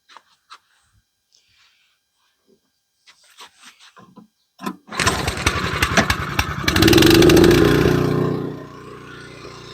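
Honda snowblower engine, quiet clicks and handling noises, then the small engine catches abruptly and runs loud and close, swelling louder for a few seconds before settling to a steady idle.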